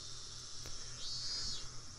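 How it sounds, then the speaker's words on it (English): Cicadas near a hillside shrine with a stone stairway, a steady, faint, high-pitched insect drone that rises and swells briefly midway, with no voices. "Those cicadas."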